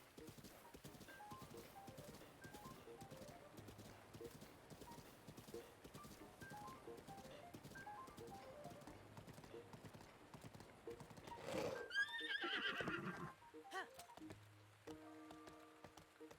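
Horse hooves clip-clop steadily at a gallop through a video game landscape in the Akkala Highlands, with a loud whinny breaking in near the end over soft ambient rain and music.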